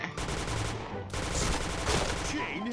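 In Point Blank, a recoil-reduced gun fires in rapid automatic bursts, with sharp repeated shots broken by a brief pause and then a second burst, while a voice talks faintly underneath.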